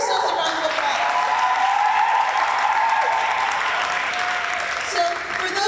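A room of people at an Earth Day press conference applaud for their own cleanup work, a full, steady burst of clapping running the whole time, with cheers and raised voices mixed in.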